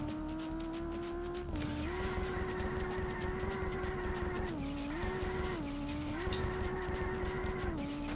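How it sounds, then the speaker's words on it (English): Tires squeal continuously as a car drifts down a mountain road in a racing video game, the engine droning underneath and the screech pitch shifting with each slide, loud and close with no talking. "I'm actually really loving the way this car drifts"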